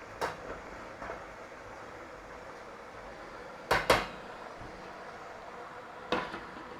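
Brussels sprouts being turned over in a frying pan: sharp metallic clinks and scrapes of utensil on pan, a couple of single knocks early, a louder double clatter midway and a final clink, over a quiet sizzle.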